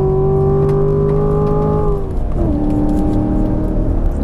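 2017 Chevrolet Corvette Grand Sport engine accelerating on a track, a loud steady mechanical drone that holds its pitch then drops sharply around a gear change before settling lower, heard from inside the car.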